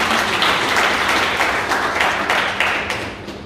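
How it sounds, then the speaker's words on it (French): Sustained applause from an audience at a talk on nursing care, a dense, loud wash of many hands that holds steady and then gradually tapers off toward the end. "Donc applaudissez pour nous."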